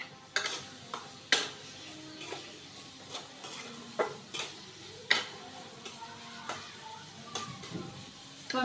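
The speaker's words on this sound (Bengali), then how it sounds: "আমি এখন শাক রান্নার জন্য এখানে পেঁয়াজ আর রসুনটা দিয়ে দিছি।" Onion and garlic frying in a pan for cooking greens, a soft low sizzle with intermittent sharp clicks and scrapes of a utensil against the pan, close but fairly quiet.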